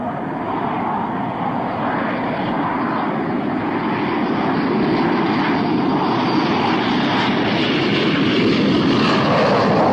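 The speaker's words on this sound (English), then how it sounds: "An international airport to receive the world's airlines." A jet aircraft at Abu Dhabi International Airport, a steady, loud broadband engine roar that holds throughout without pause.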